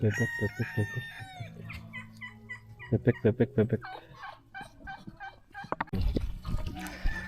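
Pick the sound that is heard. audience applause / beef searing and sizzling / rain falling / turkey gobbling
turkey gobbling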